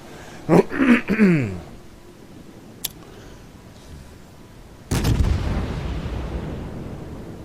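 IJN Zao cruiser guns fire in the naval battle game World of Warships as one sudden heavy boom partway through, followed by a long rumbling tail, after some earlier scattered game sounds.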